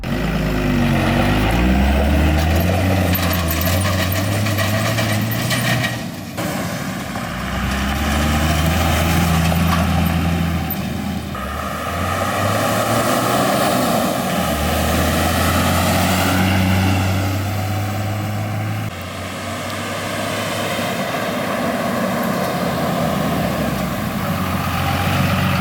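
A 1999 pickup with a 24-valve Cummins diesel drives along, its engine rumbling loud and close, rising and falling through gear changes over about twenty-five seconds with no talk.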